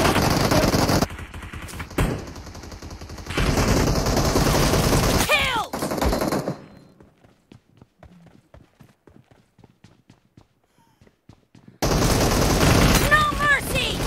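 M4 assault rifle fire in the mobile shooter BGMI: loud, dense bursts of rapid shots, then a quiet stretch of several seconds before another close, sustained volley.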